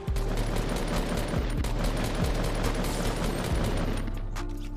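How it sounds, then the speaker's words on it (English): Rapid automatic gunfire from a Fortnite match, dense repeated bursts running loud and continuous throughout with no talk. "Ooh, watch when you start shooting the other guy."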